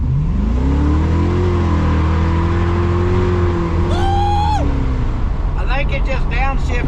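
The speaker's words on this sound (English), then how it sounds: "it downshifted into second, started to break them loose" 1999 Chevrolet S-10 pickup with an LS engine swap accelerating hard from inside the cab, a loud engine drone rising in pitch, then a downshift and more revving, with brief bursts of the driver talking over it.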